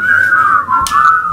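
A person whistles a bright, wavering melodic line, loud and close, with no one talking over it.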